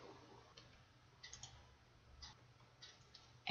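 Soft mouse clicks while navigating school administration software, a few faint, sparse taps spaced about a second apart over a quiet background hum.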